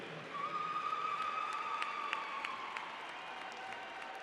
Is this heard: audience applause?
yes